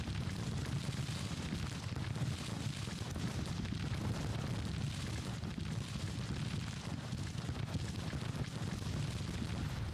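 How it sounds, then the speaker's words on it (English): Continuous rumbling battlefield din of massed artillery in the Civil War strategy game Grand Tactician: The Civil War, a dense low booming roar that stays loud and steady throughout with no voices. "Artillery continues to pound away at the enemy."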